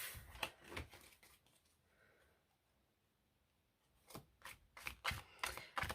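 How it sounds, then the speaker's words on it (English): A deck of tarot cards is shuffled softly by hand in quick riffling bursts, with a quiet pause in the middle before the rapid shuffling resumes, close and faint. "So what I'm going to do is I'm going to have a little shuffle, and then I'm going to go through how I lay the cards out,"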